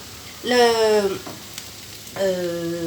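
Chinese noodles with vegetables stir-fried in a hot pan, sizzling in two loud bursts separated by a quieter pause, with a bright hissing crackle.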